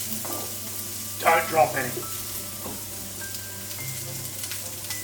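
Onions frying in olive oil in a pot over medium heat, a steady sizzle running under brief speech and a few stirring clatters.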